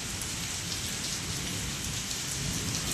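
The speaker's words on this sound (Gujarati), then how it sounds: "ચલો આજે આવી ગયો છે વરસાદ" Heavy, steady rainfall pouring down without pause, a dense continuous hiss close by.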